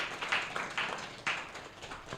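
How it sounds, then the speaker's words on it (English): Audience at an executive talk show event in Nigeria giving a round of applause, with irregular bursts of clapping rising and fading over a couple of seconds, moderately quiet and fairly close. "Please, can we give them a round of applause?"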